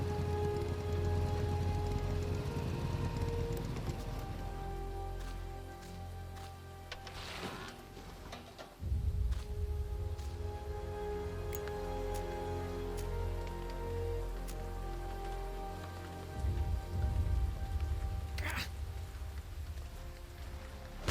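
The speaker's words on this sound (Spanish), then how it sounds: "Está lloviendo" Steady rain patters continuously on a surface nearby, a dense even wash of drops with a few louder taps.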